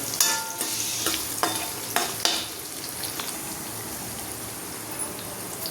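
Onion sautés in a hot pan for an egg curry paste, loud close sizzling with several sharp spatula scrapes early on, then settling into a steady crackling fry.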